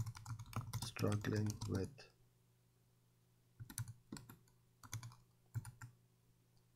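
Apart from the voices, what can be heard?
typing on a computer keyboard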